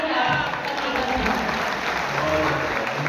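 An audience at an Independence Day mushaira poetry gathering in Kasampur Garhi claps in a sustained, dense burst of applause that holds steady throughout.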